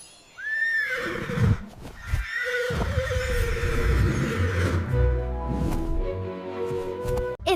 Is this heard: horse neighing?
yes